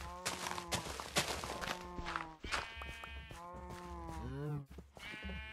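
Sheep bleating in the Minecraft video game, several loud, wavering game-animal calls in close succession with scattered footstep sounds between them.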